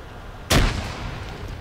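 A grenade blast in the military shooter Arma, a single sharp, close explosion that bursts suddenly and then fades into a lingering rumble.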